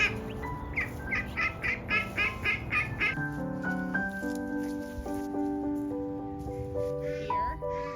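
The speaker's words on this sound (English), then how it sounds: "they're learning how to honk. They're learning how to quack." Young ducks try out their voices, a rapid run of rough, squeaky quacks giving way to a series of wavering, reedy honks, close by and fairly loud with no talking.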